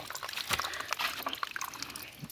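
Water running steadily from a village supply outlet near a bus stop in rural Konkan, a continuous close splashing trickle with small gurgles, fairly faint.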